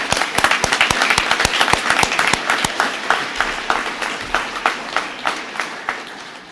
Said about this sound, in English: I want to give you a round of applause, Rabbi.